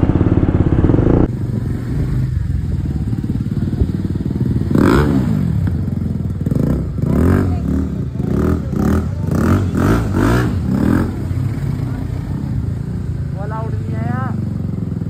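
A motorcycle rides along a hilly road toward a waterfall, its engine droning steadily throughout with rising revs near the middle as it heads downhill, while riders talk over it.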